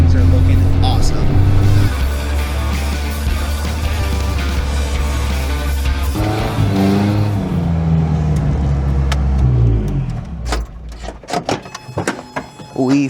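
Toyota 4Runner, left to rot for ten years and now with a fuel pump wiring fault, runs and drives with a loud steady engine drone and shifting revs, then rattles and knocks as it slows near the end.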